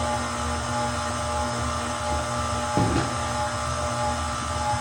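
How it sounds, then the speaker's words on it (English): A KitchenAid stand mixer mixes dough in a home kitchen, giving a steady, droning motor whir that runs continuously in the background with a brief clatter partway through. "you can hear the KitchenAid in the background"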